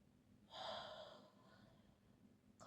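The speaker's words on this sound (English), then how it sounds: "Take a deep breath in, relax," A single deep breath, drawn in sharply and then let out over about a second and a half, soft and close in a quiet room, with no one speaking.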